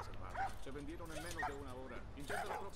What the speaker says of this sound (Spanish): Ay, perrito, perrito.